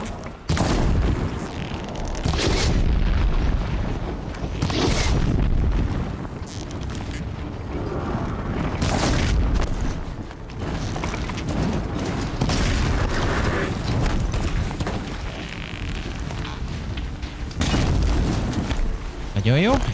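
Explosions go off in the video game Horizon Zero Dawn, with repeated sharp booms and blasts scattered over about twenty seconds while a person talks throughout.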